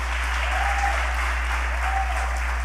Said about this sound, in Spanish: Si lo creen, un aplauso fuerte al Señor.